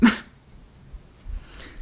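A single sharp human sneeze bursts out right at the start during a quiet indoor tarot reading, loud and close, followed by near silence and faint room noise.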